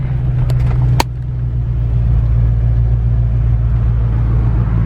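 A Ford Mustang Fox Body engine rumbles loud and steady up close, holding a deep continuous drone with a brief sharp click near the start and no talking.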